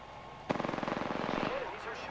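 Rapid automatic gunfire in the video game Apex Legends, fired as a loud, tightly spaced burst lasting about a second before cutting off, with faint background game sound afterward.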